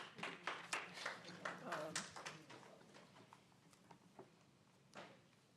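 Audience applause at a Planning & Zoning public meeting, a burst of clapping in the first couple of seconds that thins out to scattered claps, with a voice heard underneath.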